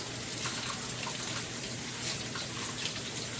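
Warm tap water runs steadily over sweet potatoes being scrubbed in a sink, a soft continuous splash with faint shifting spatters as the tubers are turned under the stream.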